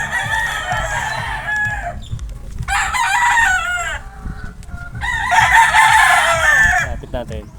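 Pet chickens and a rooster crow and cluck close by in three loud bursts, one after another, with a little low background noise between the calls.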